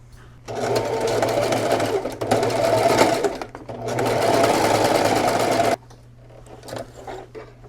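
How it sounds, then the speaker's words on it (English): A sewing machine stitches a crochet blanket into pants, whirring steadily in three long runs with short pauses between, fairly close and loud over a low hum. "And now I'm gonna go back in and sew it again closer to the edge."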